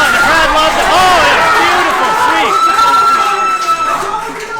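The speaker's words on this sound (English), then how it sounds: "Oh, and the crowd loves it." Crowd noise at a Saturday Knight Fights bout, with excited voices and shouts rising and falling around the ring and loud, close spectators yelling and cheering.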